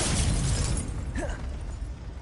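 A Confringo blasting spell goes off in a video game as one loud, close explosive burst that rumbles and fades over about a second, followed by a faint whistling effect.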